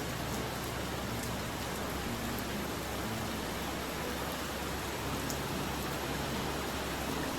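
Steady, heavy typhoon rain pours down with a constant broadband roar, gusting wind blended in, unbroken for the whole stretch with no voices.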